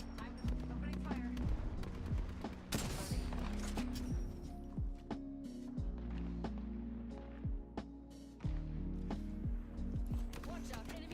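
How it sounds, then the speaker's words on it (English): Gunfire in the video game Apex Legends comes as rapid bursts of sharp shots and impacts, dense and loud, layered over constant in-game noise. "I'm opening fire."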